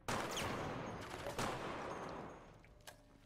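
Rapid gunfire in the video game Resident Evil Operation Raccoon City, a dense burst of automatic shots with a few sharper single cracks, loud and continuous for about three seconds before tapering off.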